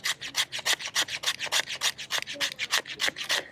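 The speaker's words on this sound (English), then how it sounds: "This is the safer way to do it, and just scrape like so." A folding bushcraft knife blade scrapes a ferro rod in quick, rhythmic rasping strokes, about a dozen close, loud scrapes in a steady back-and-forth pattern, with no voices.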